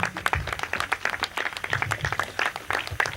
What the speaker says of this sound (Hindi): तालियां बजाइएगा।